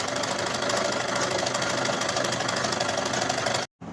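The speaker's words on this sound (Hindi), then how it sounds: "अब एक सिलाई अस्तर पर कुछ इस प्रकार से लगाएंगे।" A sewing machine runs steadily, stitching the lining of a traditional blouse, with a continuous close mechanical whir and rapid needle rhythm that cuts off briefly near the end before resuming.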